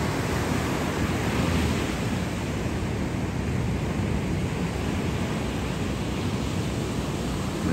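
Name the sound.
ocean waves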